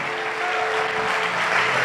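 A church congregation claps in steady, dense applause during a Spanish-language sermon, a sustained wash of hand claps filling the room for the whole stretch without voices over it.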